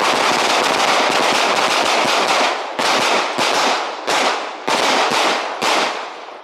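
Rapid bursts of gunfire at a tactical shooting training session, loud and close, with dense strings of shots broken by short pauses between volleys.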